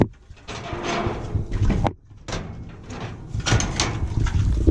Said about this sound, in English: I'm just going to close the trailer door behind them.